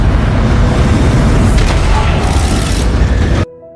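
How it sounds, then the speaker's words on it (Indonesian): A meteor explodes near a plane in a loud, deep rumbling boom that roars for over three seconds before cutting off abruptly into a faint residual tone. "Satu meteor nyelonong dan meledak di dekat pesawat."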